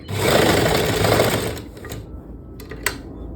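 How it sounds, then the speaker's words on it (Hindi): A sewing machine stitches lining pant fabric in a loud close burst for about a second and a half. It then stops, and a few light clicks and handling sounds follow. "अब यहाँ से यहाँ तक सिलाई लगाते जाएंगे।"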